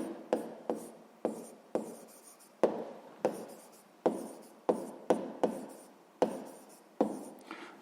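A pen or pencil writes numerals by hand in a sixth-grade math exercise, giving a series of short, crisp scratching strokes in irregular bursts, close and fairly quiet, with no voices.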